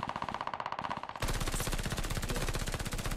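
A PPSh submachine gun fires in Call of Duty Vanguard in fast, continuous automatic bursts, first lighter and more distant, then abruptly louder and heavier, a relentless rapid rattle.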